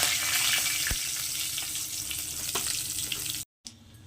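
Whole spices (cinnamon, clove, cardamom and a bay leaf) fry in hot oil for a chicken kalia, giving a steady, close crackling sizzle that cuts out abruptly near the end and resumes faintly.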